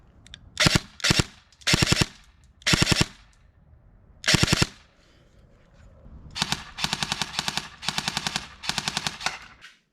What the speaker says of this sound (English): right now my gun's set in binary with Ace Tech .2 gram BBs. Let's see how this thing flies.